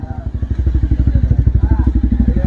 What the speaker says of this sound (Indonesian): Itu di depannya kayaknya ada motor guys.